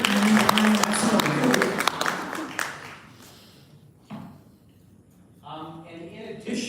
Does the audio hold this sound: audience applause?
yes